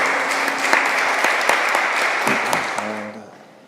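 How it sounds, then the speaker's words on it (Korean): Steady congregational applause at a Korean church Tuesday Bible study in Paris, a full wash of clapping that fades out over the last second as a voice begins. "우리 한번 박수로."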